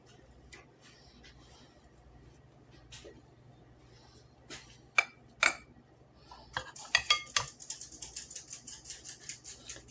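Utensils scrape and tap against a dish as a stiff mashed potato topping seasoned with butter is pressed down over a shepherd's or cottage pie, scattered soft clinks building into a quick run of metallic taps.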